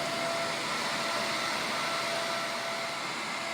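An electric vehicle charging machine running after start-up, giving off a loud, steady broadband whir like a blower with a thin constant tone, unbroken throughout with no talk.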